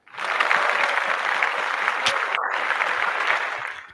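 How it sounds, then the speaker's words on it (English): An audience applauds for Ethan at a live show: dense, steady clapping that rises quickly, holds strong for about four seconds, then tapers off, with no talking over it. "Let's give Ethan a round of applause"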